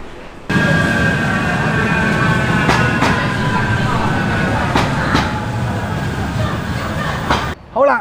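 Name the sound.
Manchester Metrolink tram at Bury terminus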